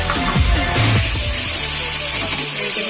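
Gobindobhog rice being stirred with spices in a pan: a steady sizzling hiss with repeated scraping strokes of the spoon, close and fairly loud throughout.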